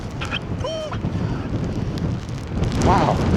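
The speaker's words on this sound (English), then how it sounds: "Wow, it is cold and windy." Cold wind gusts steadily at a rainy beach, with broadband rumble buffeting the microphone throughout, and brief voices and a faint squeaky call heard faintly over it.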